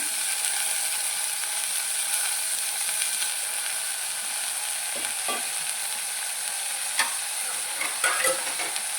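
Chopped fenugreek leaves fry in hot oil in a home kitchen pan, giving a steady, bright, hissing sizzle. A few soft stirring scrapes and clicks sit on top, close and continuous, with no voices.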